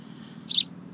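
A single short, high chirp from a baby bird, brief and close, standing out once against a quiet low background hum.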